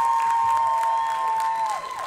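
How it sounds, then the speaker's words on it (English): An audience cheers and claps together in a hall, a dense steady roar of applause with a thin sustained whistling tone running through it, easing off near the end. "Go ahead. You can cheer."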